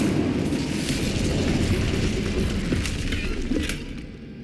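Fire spell cast in Hogwarts Legacy on PC, a loud sustained roaring blaze with crackling bursts throughout, dying down in the final second.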